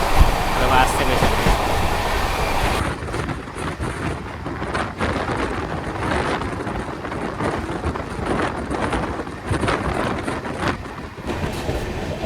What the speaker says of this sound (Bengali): আমাদের গুরুমুখী এক্সপ্রেস এখন বালি ব্রিজের ওপর দিয়ে যাচ্ছে।